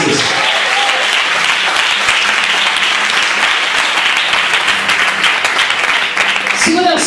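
A church congregation at a Baptist service applauds in a dense, loud, steady wash of clapping that lasts about seven seconds, with a few voices rising near the end.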